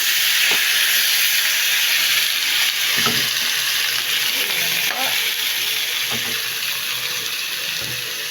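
Shrimp frying in butter in a pan, a steady close sizzle and hiss running throughout with a few soft stirring knocks and scrapes, no talking.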